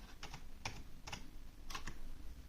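Typing on a Rii RGB LED mechanical keyboard, a few quiet scattered clusters of key clicks in an irregular rhythm, heard alone.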